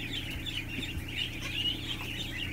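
A goose being held honks and squawks in a continuous, agitated stream, close by, with a low rumbling background and no one speaking.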